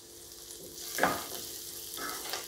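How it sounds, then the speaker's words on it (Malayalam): Onion with a couple of curry leaves sautéing in a pan for a Kerala vegetable stew, a soft steady sizzle with a brief louder spatter when the leaves go in, then a second small burst near the end. "ഈ സവാളയൊന്ന് വയന്നു വരാൻ വേണ്ടി കുറച്ചിട്ടാൽ മതി."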